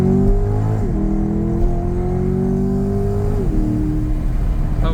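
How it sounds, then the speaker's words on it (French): A Corvette C8 convertible's V8 engine roars hard under acceleration on a long straight, loud and close, its pitch climbing steadily and dipping briefly at each gear change. "le bruit du V8, il gueule vachement"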